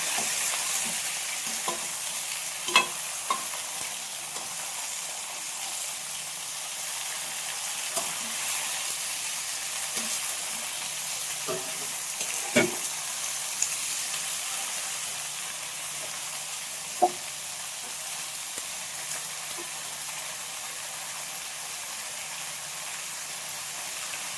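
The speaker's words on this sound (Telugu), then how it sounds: "కాకరకాయలో బాగా ఆయిల్లో వేసుకోవాలి" Sliced bitter gourd fries in hot oil with a steady, even sizzle throughout, broken now and then by soft scraping knocks as the pieces are stirred in the pan.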